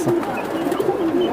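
Giribaj pigeons coo continuously in a low, rolling rhythm at a pigeon sale, close and fairly loud against a busy background.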